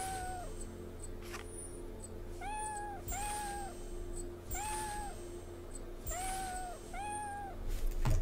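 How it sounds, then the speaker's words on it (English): Game cat sounds in a video game decathlon: repeated short meows in pairs and small clusters, evenly spaced over a quiet, steady background hum, with no voices. "They do cat noises."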